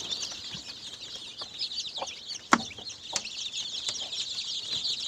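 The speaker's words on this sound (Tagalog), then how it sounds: "Ito yung mga sisiw natin na galing sa breeding pen number 1." A brood of chicks from a breeding pen keeps up a dense, continuous high peeping, close and lively, broken by an occasional louder cluck or knock.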